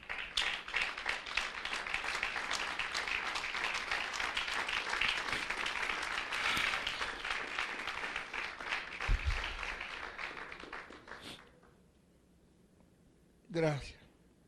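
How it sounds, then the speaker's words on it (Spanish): A church congregation gives a long, dense round of applause for the Lord, steady and full for about eleven seconds before fading out, with a brief voice afterwards. "Denle un aplauso al Señor"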